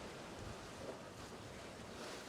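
Sea waves wash and wind buffets a sailboat on a fairly flat sea, a faint, continuous broadband rush with soft gusts and no talking.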